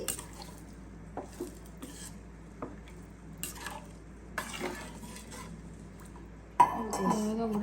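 A spoon stirs mango pakoda curry as it boils in a pot on the stove, giving soft scraping and occasional light clinks over a steady bubbling background, with a louder scrape near the end.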